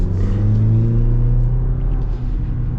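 A 2024 Chevy Colorado Trail Boss pickup accelerating, heard from inside the cab: a steady, loud low engine drone with rising harmonic tones as it pulls, continuing evenly for about three seconds.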